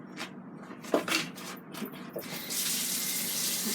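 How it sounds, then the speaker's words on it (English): Running tap water splashes steadily as a taco-seasoned ribeye steak is rinsed in a sink, a few bumps and handling knocks early, then a fuller, even stream of water. "Let's rinse it off."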